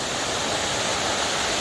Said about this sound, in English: So there's the waterfall.